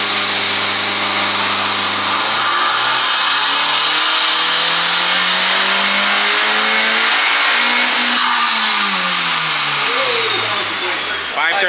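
A Honda Civic Type R FK8 with a big turbo screams up through its revs on a dyno, the loud engine pitch climbing steadily, dropping back, then rising again with a turbo whine above it.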